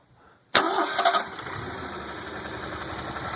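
A 1986 Jeep CJ7 with a 258 straight-six cold-starts after a short quiet moment, catching with a sudden loud burst and a brief high rev, then settling into a steady idle, close by.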